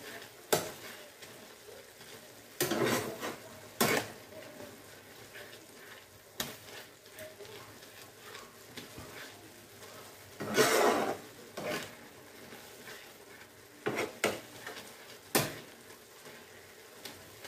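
Spicy ramen noodles fry in a pan with spice paste, a low sizzle broken by repeated scraping and stirring strokes, some loud and close, others softer, with no talk.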